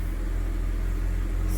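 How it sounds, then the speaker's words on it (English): 2008 BMW 3 Series E90 engine, a loud, close, low rumble that stays steady throughout, with a brief higher-pitched chirp near the end and no talking. "Now that we have the key, we can start the car."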